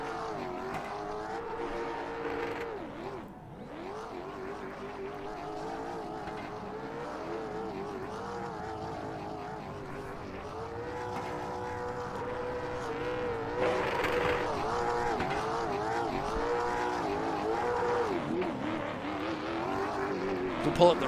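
A late model stock race car at Southern National does a victory burnout, the engine droning and revving steadily with rising tire noise under a commentator's voice.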